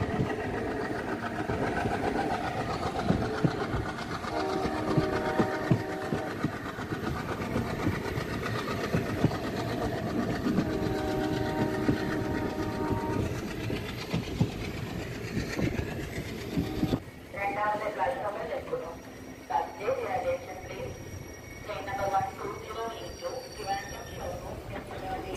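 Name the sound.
train running and arriving at Kollam junction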